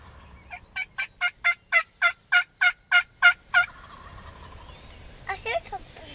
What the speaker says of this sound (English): Those are turkeys.